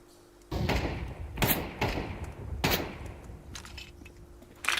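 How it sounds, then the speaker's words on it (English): A flashbang grenade from Counter-Strike 2 lands with a sharp thud. Several loud thumps and bangs follow at irregular intervals, close and punchy, with no talking. "Deploying flashbang."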